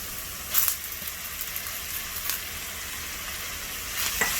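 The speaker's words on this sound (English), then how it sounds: "Now we are going to add in the Thai basil." Squid with chili and Thai basil sizzles steadily in a hot pan, a continuous loud frying hiss with a few brief sharper crackles and spatters.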